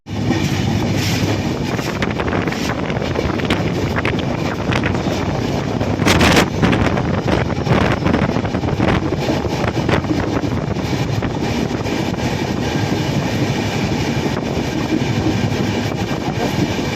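Steady, loud rumble of the Howrah–Puri superfast express running on rails past Santragachi station, with constant rattling and wind-like noise throughout, no voices.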